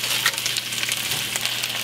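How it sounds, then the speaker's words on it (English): Cabbage sizzles and crackles in a frying pan with chicken broth, a steady close hiss with no talking. "Hear that sizzle?"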